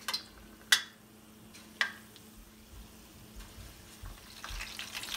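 Green chilli pakoras fry in hot oil, a faint, quiet sizzle broken by a couple of sharp ticks from a utensil early on. The bubbling hiss grows slightly toward the end, and no one speaks.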